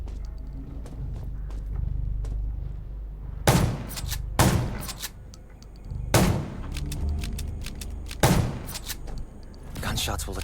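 Several loud, sharp gunshot blasts burst out at irregular intervals over a low rumbling soundtrack in the video game Undawn, with speech faintly underneath.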